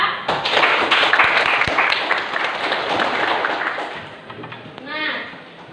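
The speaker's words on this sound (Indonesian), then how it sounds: "Kita beri aplaus untuk semua kelompok ya" A classroom of students applauding all the student groups, a dense burst of clapping that fades after a few seconds, with a teacher's voice speaking over it.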